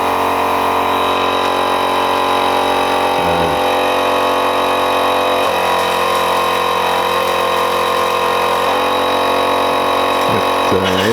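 A workshop air compressor runs steadily for the whole stretch in a shed, a constant mechanical drone with a few brief changes in pitch and load partway through, loud and close with no talking.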